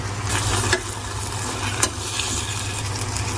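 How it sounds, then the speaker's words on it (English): Tomatoes stirred in a pan over a low flame, giving a steady soft sizzle with a low hum beneath and a couple of brief scraping clinks from the spoon. "Now we'll add tomatoes. Mix it nicely. Keep it in low flame."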